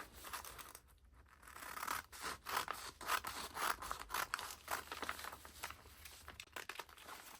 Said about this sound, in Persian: الان تیکه پشت رو قیچی میکنم به این صورت